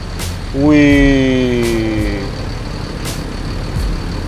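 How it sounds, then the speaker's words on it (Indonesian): A Sinar Dempo intercity bus passes close by on the road, its loud harmonic air horn blaring for under two seconds amid steady traffic rumble, with a brief voice nearby. "Itu bus yang belum pernah aku naikin."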